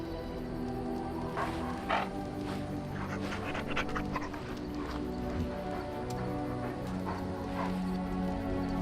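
A dog in the video game Dragon Age Origins pants steadily with a few yaps and whimpers mixed in, close and fairly loud against a game background hum.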